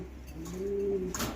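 A Karmona fancy pigeon gives one soft, close, rolling coo, brief and fairly quiet, with no speech over it.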